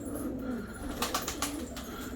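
Pigeons coo softly at a loft during their morning feeding, with low, repeated coos and scattered wing flutters and pecking sounds, quiet and close, with no talking.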